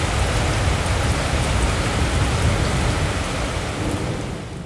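Heavy rain pours down steadily at an outdoor bike show, a dense, loud, unbroken hiss of drops on surfaces and tents with no voices.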